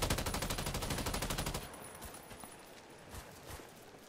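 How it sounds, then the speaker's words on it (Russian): Rapid automatic gunfire rattles in a fast, loud burst in the Warface shooter game, then breaks off into scattered distant shots and impacts. "Вы навели пушку на цель."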